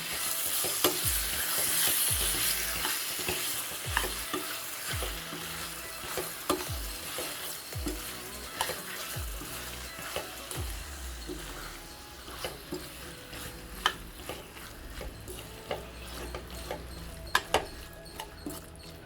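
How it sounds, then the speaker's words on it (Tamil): Prawns sizzle and are stirred in a hot pan, with repeated scraping strokes of a spatula and a steady frying hiss throughout. "ப்ரான் நல்லா வதக்கி விட்டுடலாம்."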